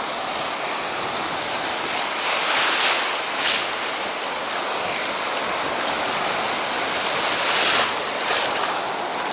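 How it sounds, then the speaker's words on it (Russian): Sea surf at Sedovo beach washes steadily onto the shore, a continuous roar with a couple of louder breaking waves, no voices. "Просто послушайте звук волн."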